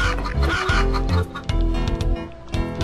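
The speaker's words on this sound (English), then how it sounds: "Also has a creepy bird." A creepy bird in the video game Alundra gives harsh, clucking squawks, several loud bursts in quick succession over a low game backdrop.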